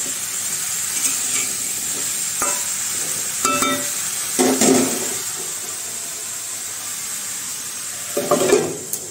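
Bottle gourd is stir-fried in a pan, giving a soft, steady sizzle broken by occasional scraping strokes and clatters of the spoon, with no one speaking.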